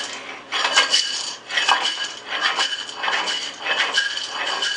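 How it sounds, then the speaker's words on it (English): Frying pan pushed away and jerked back to flip an egg: repeated scraping, sliding strokes of metal in a steady back-and-forth rhythm, close and moderately loud, with no talk. "So you push the pan away and pull it back."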